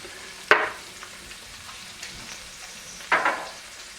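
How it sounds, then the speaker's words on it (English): Butter dropped into hot sausage fat in a pan hisses up in two sharp sizzling bursts, one early and one near the end, with a low steady crackle of frying in between. "we're going to throw our butter in"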